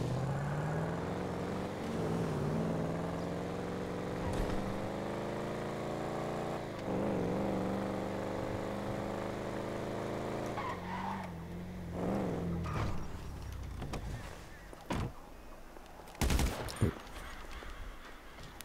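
Stolen cars in the video game GTA Online roar and skid in a continuous engine drone that rises and shifts, with sharp crashes and bursts near the end, loud and up close.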